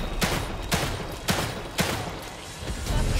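Gunfire from a boss fight in The Evil Within 2 video game: four loud, evenly spaced gunshot blasts ring out over a dense, rumbling game soundtrack.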